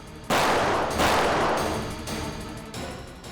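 Sharp bursts of gunfire ring out during a shootout on a highway, with several loud, echoing shots in quick succession fading into a noisy tail.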